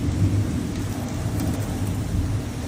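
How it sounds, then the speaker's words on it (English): Heavy rain pours steadily during a thunderstorm while low thunder rumbles beneath it, a dense continuous wash with no voices. "There's one more thunder crack here."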